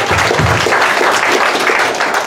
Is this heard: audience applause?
yes